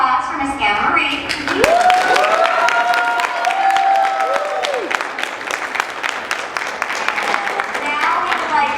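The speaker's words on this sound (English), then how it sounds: "And we all need a round of applause for Miss Anna Marie" An audience at a classroom performance claps in a steady patter of applause, while a voice and other voices talk and call out over it.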